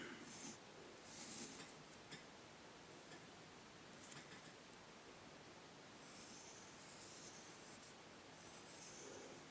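A pencil scratches and glides across paper in short, faint bursts of strokes with quiet pauses between them, heard up close while someone works on a character drawing.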